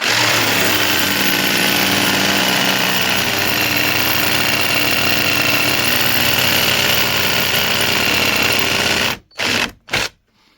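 A LEADER Lite BD20-65M cordless jigsaw, pendulum set to two, strains to cut a deep workpiece, its loud, continuous motor whir and blade chatter droning steadily before stopping and restarting in two short bursts near the end.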